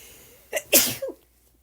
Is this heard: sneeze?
yes